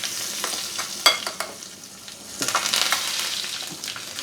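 Curry leaves drop into hot oil for a tempering of cumin, mustard seeds and asafoetida for Gujarati handvo. They set off sharp crackling sizzles with loud spits near the start, a brief lull, then a dense renewed burst of frying crackle.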